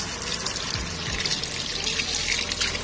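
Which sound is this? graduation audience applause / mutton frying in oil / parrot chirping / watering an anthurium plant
watering an anthurium plant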